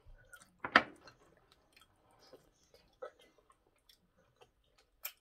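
Close, quiet chewing of starch eaten with egusi soup: a few soft, wet bites and mouth sounds spaced out over a few seconds, with faint murmuring in the background.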